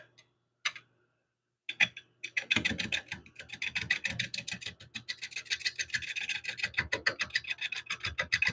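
A gouge takes a light cut on a large oak bowl spinning on a wood lathe, making a rapid, rhythmic scraping rasp that starts after a brief pause and runs steadily up close, with no talk.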